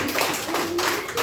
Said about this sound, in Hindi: चलिए ताली बजा देते हैं उसके लिए।